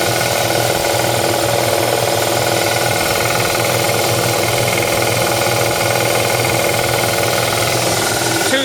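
A tandem air lift water well pump, model SS-3 with a 220-volt 3-horsepower motor, running at about 20 PSI outdoors in Texas, giving a steady, loud, unbroken mechanical drone with a rhythmic low knocking throughout.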